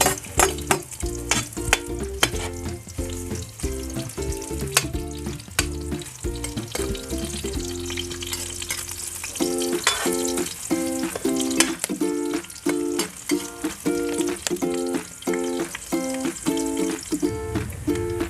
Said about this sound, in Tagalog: Antayin muna natin na magka-brown yung sibuyas.